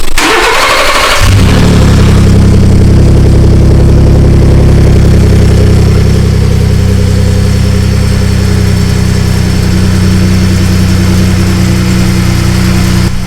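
Ford F-150 truck engine cranks briefly, catches and settles into a steady, loud, low rumbling idle that holds for over ten seconds with no talking.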